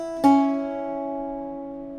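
A single Irish bouzouki strum or plucked chord rings out sharply, then sustains and slowly decays, played alone with no talking.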